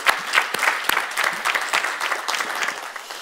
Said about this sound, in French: On peut faire applaudir le Seigneur.